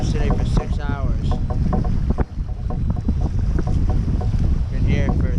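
Strong wind roars across the microphone on Lake Erie during a kayak bass fishing tournament, a loud, constant buffeting rush with water slapping nearby, and someone talks over it.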